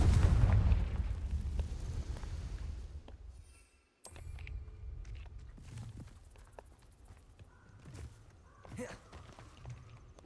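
A Confringo blasting spell explodes in the video game Hogwarts Legacy, a loud booming burst at the start that rumbles and fades over a few seconds, followed by quieter game effects and scattered clatter.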